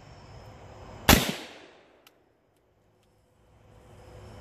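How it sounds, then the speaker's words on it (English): A single rifle shot fired with no muzzle device cracks loudly and close, then trails off into a short decaying rumble before near silence, with faint outdoor ambience at dusk. "I'm gonna take one shot with no muzzle device."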